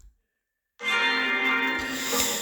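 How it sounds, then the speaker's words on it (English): A school bell in a visual novel game rings out suddenly after a brief silence, a loud sustained metallic tone with rich ringing overtones that holds steady to the end. "That's the bell, we should go."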